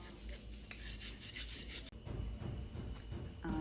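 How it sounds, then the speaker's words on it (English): Antique metal hardware is scrubbed with a wire brush to remove loose paint flakes, producing continuous close scratchy scrubbing that turns lower and rougher partway through, with no voices. "you're going to want to use your wire brush to remove any loose paint that already exists on it"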